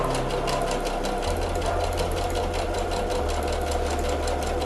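A sewing machine stitches a fabric bowl holder in a steady, fast, even run, loud and close, with the motor's rapid needle rhythm continuing throughout and no talk.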